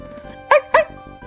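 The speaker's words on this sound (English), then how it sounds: "You're Luigi's dog, Polterpup!" Two short, bright barks from the cartoon ghost dog Polterpup, close and loud, set over a faint musical background.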